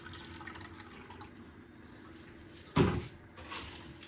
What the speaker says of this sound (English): some hot water in the bottom, creates a lot of steam.